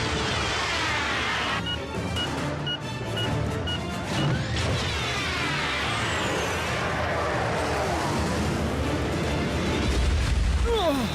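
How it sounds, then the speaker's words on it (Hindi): A loud, dense crash-and-blast burst from an explosion in an animated Transformers: Prime episode, with heavy rumble and debris-like clatter sustained throughout and swelling again near the end. "क्यों, कैसा लगा ये धमाका?"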